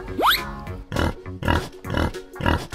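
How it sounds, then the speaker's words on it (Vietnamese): Pigs at a market let out a sharp rising squeal, then a series of loud, rhythmic grunting oinks repeating about every half second, close up. "Lợn nhà bà kêu ầm ĩ hết cả lên rồi"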